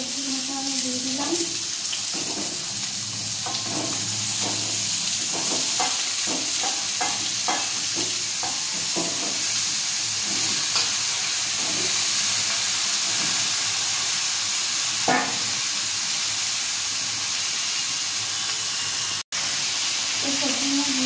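Mixed vegetables hiss and sizzle steadily in a hot pan, a loud, constant frying wash with scattered clinks and stirring scrapes over it, and a brief voice at the start and end.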